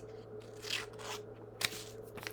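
Scissors cut through paper for a snow craft with soft, quiet snips and crunches, a few sharper clips near the end, under a low background hum.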